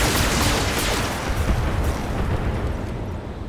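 Heavy weapons fire from battling mechs in the Battletech video game, a dense continuous barrage of booming explosions and impacts that stays loud throughout with no talking.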